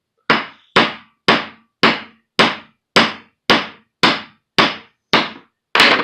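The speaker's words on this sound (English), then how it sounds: "So what we do, flip our hammer over." A small ball peen hammer taps a CV joint yoke during head assembly, eleven sharp, evenly spaced metallic strikes close up, each decaying quickly, with no talking.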